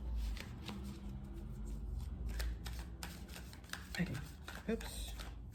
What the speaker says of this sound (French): Je vais mélanger bien les cartes.